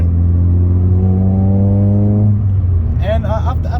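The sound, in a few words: Citroen Saxo VTS car engine with modified exhaust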